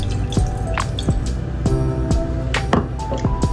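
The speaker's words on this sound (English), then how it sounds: "You can just add milk however much you like." Liquid drips and splashes in a series of sharp, irregular plinks near at hand while milk goes in for Nepali-style milk tea, with no voices.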